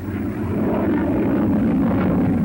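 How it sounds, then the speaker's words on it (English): A Hawker Hunter jet fighter, Britain's newest in 1953 and already supersonic, roars past in a loud, steady engine rush that swells slightly before tailing off, with no voices present. "The new Hawker Hunter puts on a hair-raising performance."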